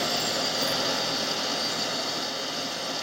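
Jet engine roar in the X-Plane flight simulator during a right-engine fire, a loud, steady broadband whine with a thin high tone on top, constant throughout with no talking.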